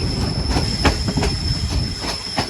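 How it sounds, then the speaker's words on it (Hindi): Hazara Express passenger train slowing into Dinga railway station, with steady loud rumble and rhythmic clickety-clack of wheels over rail joints, plus a high metallic squeal from the wheels throughout. "लगता तो नहीं है, पहले ही लगता है ट्रेन रुक जाएगी।"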